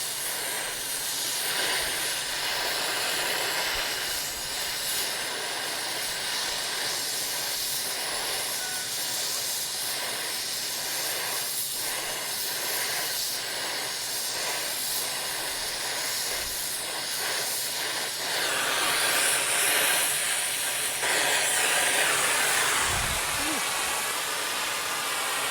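Broadband hiss of gas escaping from a Trane package unit, steady and loud near the source, swelling toward the end.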